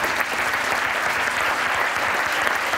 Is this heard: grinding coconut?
no